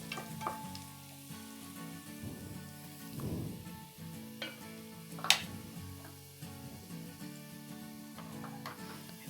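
Chopped onions sizzle and crackle steadily in a hot pan with oil as moong dal khichdi is prepared, with occasional stirring scrapes and a sharp clink partway through; no voices.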